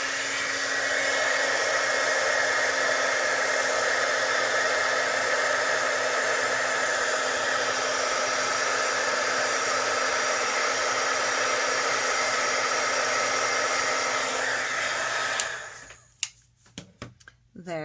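A heat embossing tool blows hot air in a steady, loud whooshing roar for about fifteen seconds, then cuts off, leaving a few faint handling sounds.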